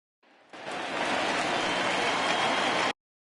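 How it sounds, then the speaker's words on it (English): Steady rain pours down at a ballpark in the MLB The Show 20 video game, a dense even hiss that swells in after a brief soft start, holds for a couple of seconds, then cuts off abruptly. "the rain's starting to intensify here. It's coming down a little heavier now."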